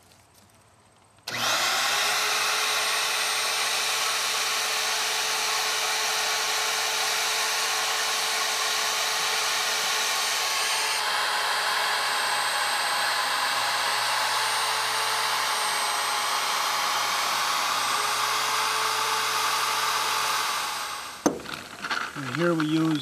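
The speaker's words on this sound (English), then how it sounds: "This is what you call a portable drill press?" A portable magnetic drill press, clamped in place rather than held by its magnet, bores into wood with a loud, steady motor whine that runs unbroken for about twenty seconds and then stops, leaving brief handling noise.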